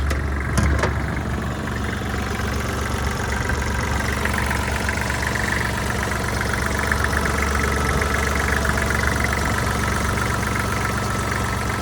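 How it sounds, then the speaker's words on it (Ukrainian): A Kubota GL-261 mini tractor engine runs steadily at idle, a continuous low rumble with a faint knocking rhythm, close by and with no one talking. "Мотор працює як годинник."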